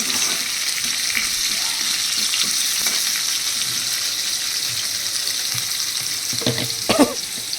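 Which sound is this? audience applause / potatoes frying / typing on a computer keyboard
potatoes frying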